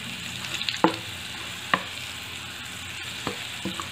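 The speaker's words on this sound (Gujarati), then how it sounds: "આમ આપણે સકરિયાને 1 મિનિટ માટે ઘીમાં સાતડી લઈશું" Mashed sweet potato is sautéed in ghee, giving a low, steady sizzle broken by a few sharp spoon knocks and scrapes at close range.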